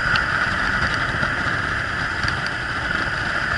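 A Yamaha Drag Star 1100 cruiser motorcycle engine idles steadily at close range, a constant low rumble with a faint hum above it and no talking.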